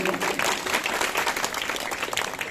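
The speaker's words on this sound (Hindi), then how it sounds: "एक बार जोरदार ताली नन्हे मुन्ने बच्चे जो इस धार्मिक आयोजन में सहभागिता ले रहे हैं, इनके लिए जोरदार ताली बजाइए" Loud, steady applause from a crowd at a Hindu religious gathering in India, a thick wash of many hands clapping together without pause.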